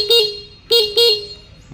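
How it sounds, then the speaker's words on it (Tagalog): Horn of a new 2023 Honda Beat V3 scooter sounds in three short, loud beeps, one followed by two quick ones, close up with no talk. "Busina, check."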